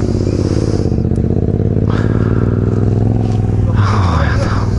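A quad bike engine roars close and steady as the rider pulls away, with a constant loud rumble and some rattling over the rough ground.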